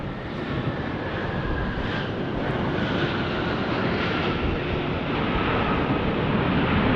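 A fixed-wing airliner flies into Las Vegas airport, its engine roar a loud, steady broadband rumble that holds and swells slightly across the whole stretch, with no talking.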